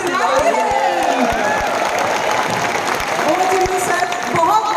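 A crowd at a business stage event applauds and cheers, sustained clapping running throughout beneath an energetic voice and background music.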